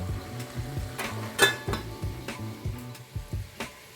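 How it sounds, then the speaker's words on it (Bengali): Metal pot lid clanks and scrapes in a home kitchen while okra curry cooks, with several sharp knocks and clinks at irregular intervals over a soft background. "ঢাকনাটা তুলে দিচ্ছি"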